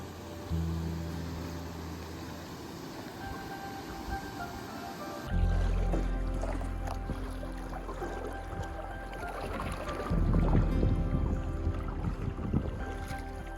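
Canoe paddling on Cork Lake in Algonquin, with soft water swishes and strokes over a steady outdoor wind rush that grows louder partway through, no voices.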